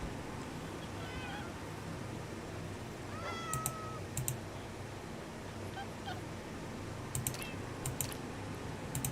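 Faint, high cat meows from the Minecraft video game sound over a steady low background hum. Scattered sharp clicks, like keyboard taps, come through now and then.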